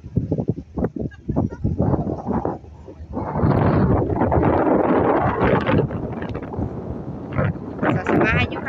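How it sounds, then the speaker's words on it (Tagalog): Strong gusts buffet the microphone at an outdoor scenic viewpoint, loud rumbling wind noise swelling and falling, with a person's voice heard briefly near the start. "Sarap ng hangin dito."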